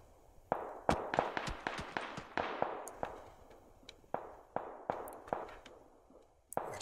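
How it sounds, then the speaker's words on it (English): Gunfire in the video game PUBG: a quick string of sharp cracking shots, some in rapid bursts, at moderate distance with short decaying tails, no one talking over it. "He's getting shot up."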